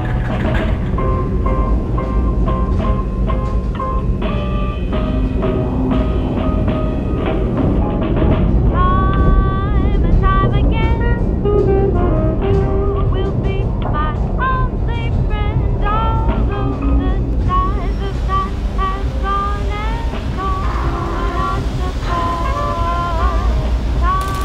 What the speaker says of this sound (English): the train arrives at the station